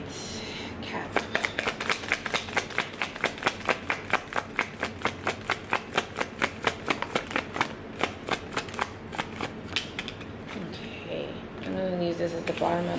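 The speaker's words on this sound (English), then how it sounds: "I just want to make sure I really shuffle." Tarot cards are riffle-shuffled close up in a fast, steady series of crisp flicks, repeated many times, with a brief voice near the end.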